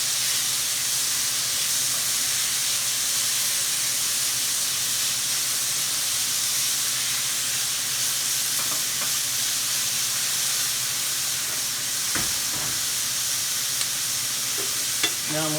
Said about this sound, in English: We're going to add in the zucchini